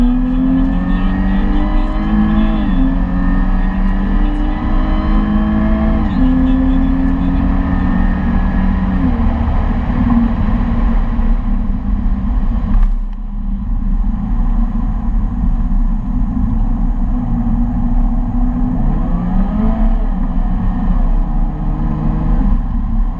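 A Jaguar F-Type P300 2.0-litre four-cylinder engine revs repeatedly, pitch climbing and dropping in rising sweeps, with a brief pause before more revving; loud and close.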